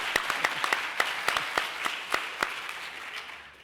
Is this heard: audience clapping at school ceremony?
yes